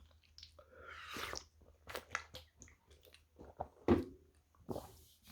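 Kimchi pancake and kimchi fried rice being chewed up close in a mukbang, with moist squishy mouth sounds and occasional soft crunches in an irregular rhythm, no talking.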